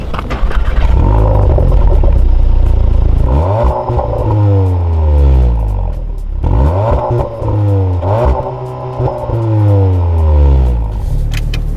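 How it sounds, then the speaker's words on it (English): A 360bhp ABT-upgraded SEAT Leon Cupra R ST estate pulls away, its engine revving loudly and rising through the gears in repeated sweeps, close and continuous with some clatter. "What I wanted to do since I picked this car up is take it for a bit of a spin."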